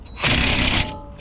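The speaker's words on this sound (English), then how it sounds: "I'm using my impact gun." An impact gun briefly tightening a brake caliper bolt on an Infiniti QX80 front brake job, a single loud whirring burst of about half a second that cuts off, with a faint mechanical tail afterward.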